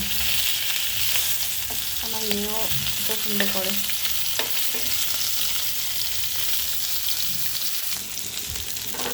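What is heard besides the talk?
rohu fish frying in oil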